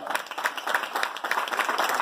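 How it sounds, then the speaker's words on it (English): An audience at a Netball Jamaica funding event applauds the Sunshine Girls netball team, a steady wash of many hands clapping that sounds moderately distant and fairly soft, with no talking over it. "And I'm hearing the applause."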